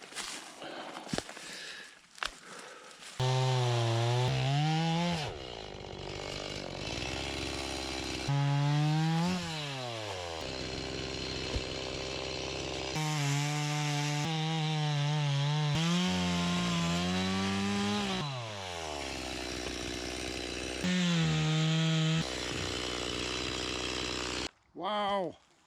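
A chainsaw fitted with a freshly sharpened chain bites into wood in several loud bursts, its engine pitch dropping under load during each cut and rising again between them, with a brief idle at the end.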